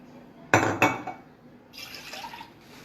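Milk and water are poured from a cup into a bowl, two quick loud splashing pours followed by a fainter trickle and light clinks.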